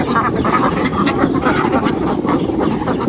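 A flock of around a hundred ducks quacks continuously nearby, a dense overlapping chatter of calls with no pauses.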